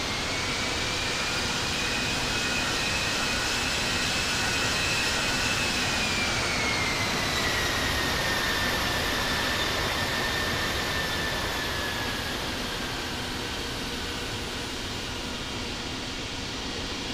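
Airliner jet engines taxiing at New York in the Infinite Flight simulator game, a steady broadband roar with a high whine that slowly drops in pitch, loud and continuous with no talk.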